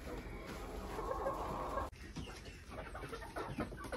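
Chickens clucking inside a backyard coop near their roost, several close, soft clucks and murmurs scattered across the few seconds.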